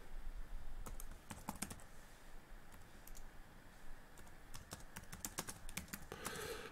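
Computer keyboard typing while a test is written in C#, with quick irregular bursts of clicking keystrokes close by against a quiet background hiss.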